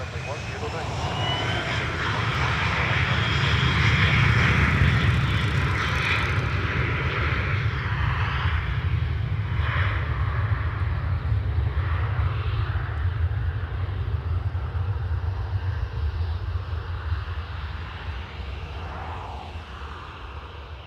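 An airliner departing a runway at Dublin Airport, its engines rumbling steadily for the whole stretch as it climbs away, the roar swelling and then slowly fading. Voices talk over the noise throughout.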